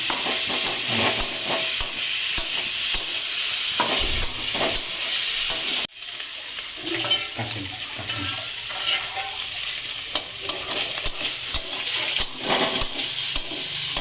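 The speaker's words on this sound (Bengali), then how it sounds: "চিকেনটাকে একটু লাল লাল করে ভেজে দেবে" Marinated chicken frying in a pan, with a dense sizzle and spatter, intermittent stirring clatter and a sudden drop in level partway through, close by and without talk.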